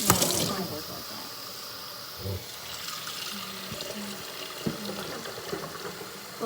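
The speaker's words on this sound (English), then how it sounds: "Look, I'm putting some water in it." Tap water runs into a cooking pot for boiling eggs in a home kitchen, making a steady splashing gush that shifts as the pot fills, with a few clunks and faint background voices.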